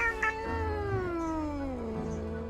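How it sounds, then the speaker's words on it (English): A sleepy cat lets out a drawn-out, annoyed meow, rising and then slowly falling in pitch over about two seconds, close and fairly soft. "The cat mutters an annoyed meow through her snores."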